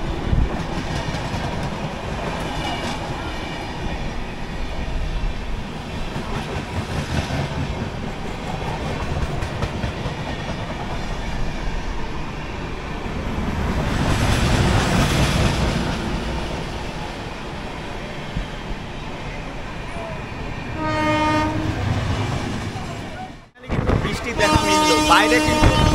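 The Chennai Coromandel Express rushes past during a rainy Howrah to Digha rail journey, a long roaring rumble with rhythmic clatter that swells and briefly cuts out near the end.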